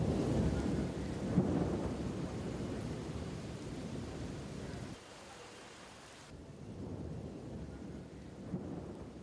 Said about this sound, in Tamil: இன்று மாலை 4 மணியளவில் கொழும்பின் பல பகுதிகளில் அடைமழை பெய்தது.